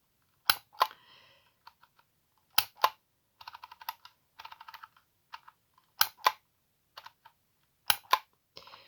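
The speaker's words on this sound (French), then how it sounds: "on clique chaque lettre en essayant de pas faire de faute d'orthographe" A handheld label tool clicks out letters one at a time, giving sharp, close snaps in uneven clusters with brief pauses between them, each followed by a faint rattling wind.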